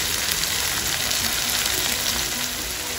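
Tomatoes cooking down in a hot pan for urad chana dal give a loud, steady, close sizzle and fry hiss that runs unbroken throughout, with no voices.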